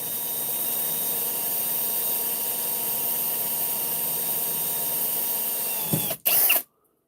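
A power drill with a bit bores into a piston with a steady, high whining buzz for about six seconds. It then cuts off, and a short final burst follows before it stops.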